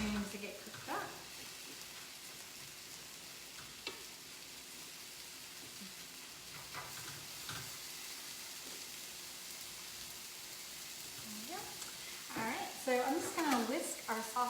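Mushrooms and bok choy stir-fry in a pan with a low, steady, quiet sizzle and occasional stirring scrapes, and a voice briefly comes in near the end.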